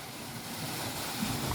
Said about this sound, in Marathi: हे आम्ही पाईप सोडून पाणी सोडलेलं आहे हिरीत